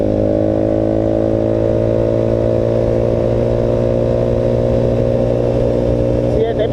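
A Voge 300 Rally motorcycle fitted with a loud aftermarket exhaust is held at high revs on a night ride, giving a loud, continuous, steady engine drone throughout.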